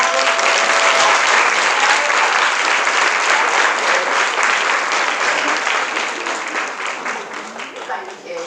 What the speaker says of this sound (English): Can we give our little duckies a lovely round of applause?